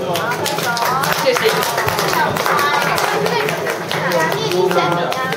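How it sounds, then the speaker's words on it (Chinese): An audience claps at the award ceremony for a Gran Turismo 5 racing competition in a hotel, a run of scattered hand claps heard under ongoing speech, with children's voices mixed in. "明辉， 可以拍手吗？"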